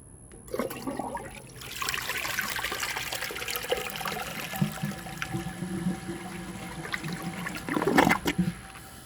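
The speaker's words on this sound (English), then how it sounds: "Let's give this another flush and see if it can take the rest of that dirt." A 2001 Eljer Canterbury toilet flushes nearby with a sharp start, a sustained rushing swirl of water, then gurgling and trickling as the bowl drains and refills, ending in a brief loud gulp.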